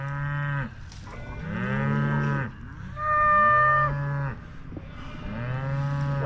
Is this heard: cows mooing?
yes